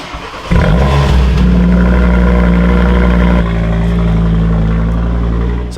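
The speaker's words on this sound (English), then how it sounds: "we have the Audi RS3 with that unique 5-cylinder" A 2024 Audi RS3's five-cylinder engine fires up and revs loudly up close, a deep warbling growl that holds steady before settling into a slightly lower, sustained idle-rev drone.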